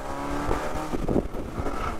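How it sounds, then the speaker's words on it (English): Saturn Sky fitted with a Sprint Booster accelerating hard in second gear, engine revving up loudly and close over about two seconds with no talk. "It's much faster once you hit that gas."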